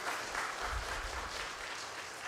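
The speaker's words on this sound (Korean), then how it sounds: "다시 한번 박수 부탁드리겠습니다." A church congregation at a Sunday morning service claps together in sustained, dense applause that holds steady for a couple of seconds, filling a large hall.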